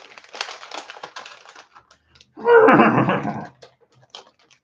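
A person imitates a horse neigh with a loud, close, rough whinnying voice lasting about a second, preceded by faint clicking and tapping sounds.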